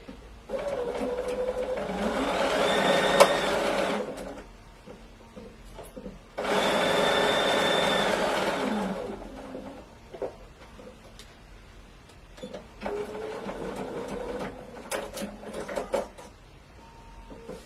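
A sewing machine runs in three steady stitching bursts of a few seconds each, with quiet pauses between and small clicks and handling noises, close and loud, with no voices.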